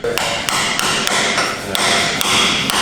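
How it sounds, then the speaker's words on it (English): A race press tool is hammered to drive new wheel bearings into a Land Cruiser hub, with sharp metallic strikes landing roughly every third of a second, loud and close, each ringing briefly. "Using a special race press tool, I hammered the new bearings in."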